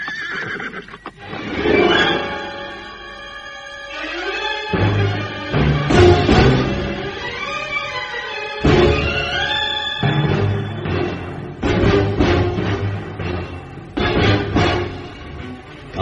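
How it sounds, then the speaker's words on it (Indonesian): Horses whinny loudly several times in a long, shrill series, with faint clip-clop of hooves from ridden horses beneath, no talk. "Kameswara memacu kudanya menuju sebuah rumah yang ditunjukkan oleh orang yang bernama Harya Wungkal"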